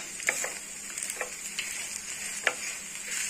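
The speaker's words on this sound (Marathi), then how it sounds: "याच्यातच आपल्याला मीठ टाकायचं आहे चवीनुसार आणि हे मिक्स करून घ्यायचं आहे" A soft, low sizzle rises from a potato mixture with salt as it is stirred in a pan, with a few light scraping taps.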